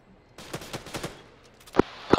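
Gunfire in the military video game Arma 3: a quick run of distant rifle shots, then two sharper, louder close reports near the end.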